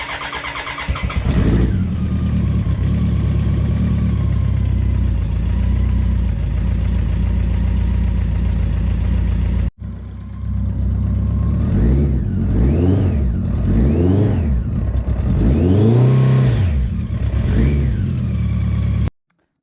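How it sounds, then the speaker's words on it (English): A BMW K100 motorcycle engine on a cafe racer build cranks and fires, then runs steadily before a pause, after which it is revved in a series of rising and falling blips, loud and close. "I'll start the bike and I'll see if it"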